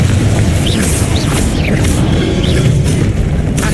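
Confringo fire-blast spell from Hogwarts Legacy erupting in loud, dense booming blasts with whooshing magical sweeps on top, filling the whole stretch without pause.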